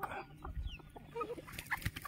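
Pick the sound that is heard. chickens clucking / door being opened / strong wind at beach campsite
chickens clucking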